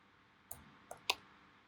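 Computer keyboard typing, three quiet separate keystroke clicks spaced irregularly over a faint background hiss.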